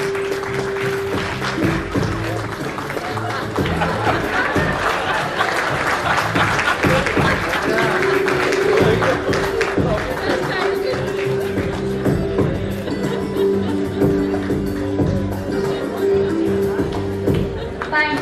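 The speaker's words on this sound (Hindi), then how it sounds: "जोरदार तालियां हो जाए everyone." Sustained loud applause from an award-ceremony audience in a hotel hall, steady clapping lasting the whole stretch with a faint musical tone underneath.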